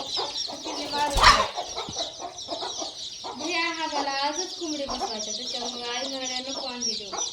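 Free-range village hens cluck in repeated short bursts on a farm, close by, with a brief louder flurry of noise early on and steady clucking afterward.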